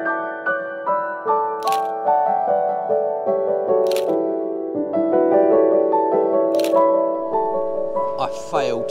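A camera shutter fires single shots at spaced intervals, each a sharp click standing above a steady music bed during street photography beside the Thames in London.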